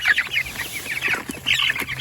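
Meat chickens, Cornish cross birds on a homestead, clucking at feeding time as they crowd in for food, giving a busy, close chorus of short overlapping clucks.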